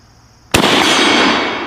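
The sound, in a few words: Mauser M1898 rifle shot hitting a steel target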